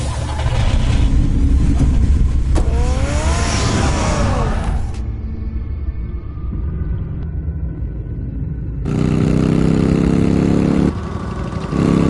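A car engine in the Batman Telltale video game rumbles and revs loudly with rising whines, drops to a quieter idle, then surges again, all close and continuous without talk.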